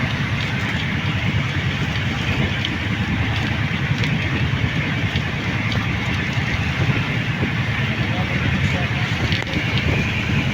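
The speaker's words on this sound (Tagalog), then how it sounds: "ang lakas ng hangin" Constant roaring wind blasting across the microphone, loud and unbroken, with a dull rumble underneath.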